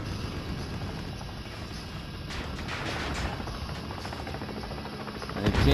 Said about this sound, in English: That fucking helicopter waiting for me to get almost all the way over there.